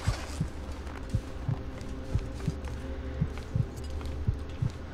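A heartbeat in the survival game The Long Dark thumps steadily in low, regular pulses, roughly two beats per second, under a constant murky ambient drone with no talking.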